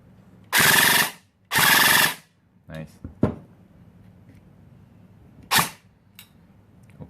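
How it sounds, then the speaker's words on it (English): Celcius AKM toy gun fitted with an electronic installation fires two loud sustained bursts in quick succession, followed by a few sharper clicks and a final short burst, with no talk over it. "Now this gun is working properly."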